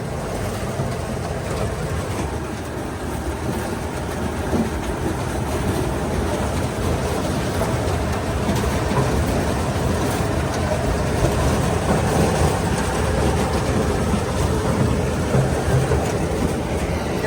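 A Dashmesh combine harvester engine runs with a steady, dense mechanical roar that stays constant and close, with no speech over it.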